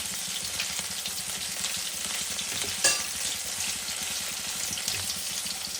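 Covered vegetables in oil sizzle and crackle steadily as they are stirred, with a constant close frying hiss, light scraping, and one sharp clink near the middle, with no voices.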